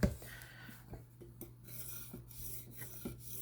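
A knife edge being polished on a Hapstone RS guided sharpening system gives a steady close rasping rub as the stone strokes along the blade, repeated in short passes with no talking.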